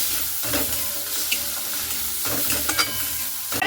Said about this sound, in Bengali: তো মাছটার সঙ্গে একসঙ্গে এগুলোকে ভেজে নিতে হবে।